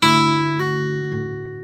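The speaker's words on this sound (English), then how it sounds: "And then I do the original pinching the two open strings and hammering." On a blues guitar, two open strings are plucked together, followed by a hammered-on note and a couple of softer follow-up notes, ringing clearly and close with no talking.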